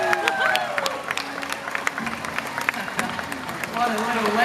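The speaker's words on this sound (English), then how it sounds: "Big round of applause." Crowd at a crocodile show applauding and cheering outdoors, scattered claps and shouts under a speaking voice, with the clapping thickening toward the close.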